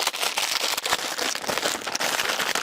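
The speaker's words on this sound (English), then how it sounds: "sorry for the crinkling noise." Steady close crinkling of packaging or plastic, a dense crackly rustle that runs continuously without any voice.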